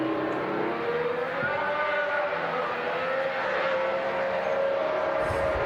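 A 2026 Mercedes or Alpine Formula 1 car runs on track, its engine note a steady high whine that gradually shifts pitch as it holds speed, heard at moderate distance with no talk.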